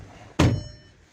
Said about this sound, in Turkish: şu kapıyı kapatalım